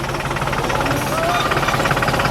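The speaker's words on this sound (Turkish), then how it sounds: "Motor vitesi geçmiyor ama" While a goalpost is being mounted, a motor runs steadily with a rough, rapid knocking chug that stays loud and even throughout.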